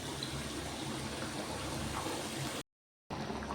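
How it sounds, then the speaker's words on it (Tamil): Water pours steadily into a pot of three-quarters-cooked chicken for biryani, making a constant rushing fill sound that cuts out briefly near the end and then resumes. "பிரியாணிக்கு சிக்கன் முக்கால்வாசி வெந்துருச்சு. நம்ம இப்போ அளவு தண்ணி சேர்த்துக்கிறோம் மக்களே."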